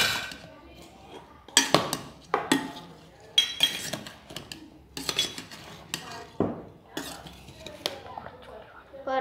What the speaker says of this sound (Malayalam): നമുക്ക് ഇതൊക്കെ ഒന്ന് മിക്സ് ചെയ്ത്